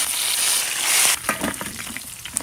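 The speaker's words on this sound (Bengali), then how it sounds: "এখন মাছটি ভাজা শুরু করো।" Hilsa fish pieces coated in turmeric and salt fry in hot oil, starting with a loud, dense hiss that drops to softer, crackling sizzles and small pops, close by.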